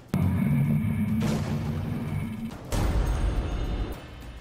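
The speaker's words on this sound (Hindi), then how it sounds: "तोप के ये बरसते गोले आज यूक्रेन को मिट्टी में मिला रहे हैं।" Artillery shelling in the Russia-Ukraine war, two heavy booming blasts a couple of seconds apart, each followed by a rumbling decay, loud and without talk.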